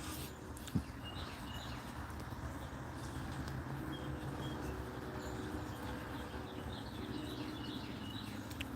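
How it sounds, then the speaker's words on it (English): A train passing roughly four or five miles away, a faint, low continuous rumble under open outdoor ambience, with a brief sharp tap early on and faint high chirps. "You can hear the train. And that train's actually pretty damn far away from here."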